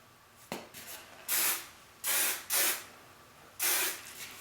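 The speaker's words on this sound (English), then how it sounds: "I'll be sure to spray those out of the way" Several short bursts of hairspray hiss onto hair, close and fairly loud, with brief pauses and light rustling between them.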